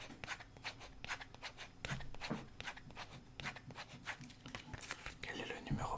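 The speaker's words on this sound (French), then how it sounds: "D'accord, j'en écris un par-dessus" Pen scratching across paper in an ASMR eye-doctor roleplay, a close, rhythmic run of short strokes and scribbles with soft whispering underneath.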